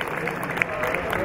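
Applause from the audience at a prize-giving during the Moscow Dive Show 2021, a brief dense patter of clapping hands, steady and moderately loud, with a crowd murmuring under it.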